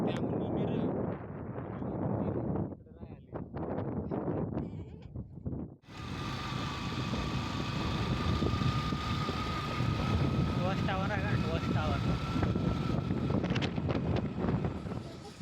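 Wind roars and buffets the microphone in gusts at Kokan Kada near Ghatghar in the Sahyadri hills, with voices talking underneath and a brief lull partway through.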